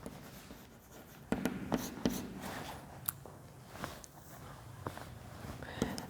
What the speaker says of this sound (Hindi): अब हम लोग इसका आंसर लिखते हैं.